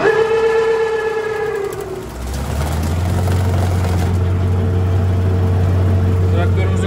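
A farm tractor's engine starts and settles into a loud, steady low idle with the hand throttle raised, droning continuously after a brief whining start-up.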